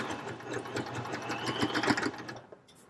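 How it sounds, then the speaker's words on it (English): An Elna 130 sewing machine runs steadily under electronic foot control, its rapid mechanical needle whir continuous and close before slowing and stopping near the end. "I can regulate the speed of my machine."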